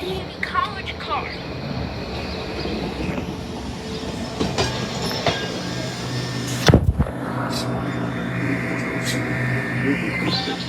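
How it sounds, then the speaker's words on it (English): Trolley number 126, the Delaware County Community College car, rolls past on rails near Drexel Park, with a steady rumble, clicking wheels and a brief loud burst midway, under faint background voices. "We got trolley number 126, the Delaware County Community College car."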